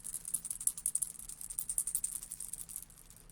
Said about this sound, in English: Kind of sounds a little bit like our shakers.